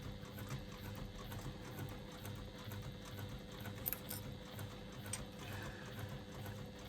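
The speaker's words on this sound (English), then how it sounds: "Just a couple of back stitches to make sure that I'm" A domestic sewing machine stitching a couple of back stitches while sewing in a zipper and lining, a soft steady mechanical whir with rhythmic ticking, fairly quiet and close, no talk.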